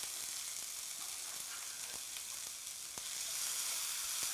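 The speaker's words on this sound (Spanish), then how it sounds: "En la misma olla ponemos la cebolla." Onion sautéing in a pot, a steady broadband sizzle with faint stirring clicks, loud and continuous, swelling slightly toward the end with no voices.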